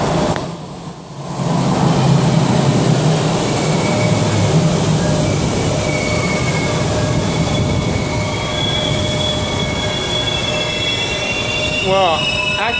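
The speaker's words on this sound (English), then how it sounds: "northbound train." A northbound commuter train runs past at a Miami station, a loud continuous rumble of wheels on rails with rising squeals near the end and faint voices underneath.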